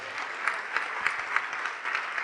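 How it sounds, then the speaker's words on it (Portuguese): A church audience applauds in a sustained, dense patter of many hands, with periodic louder bursts lifting out of the steady clapping and no clear speech over it. "vamos aplaudir mais"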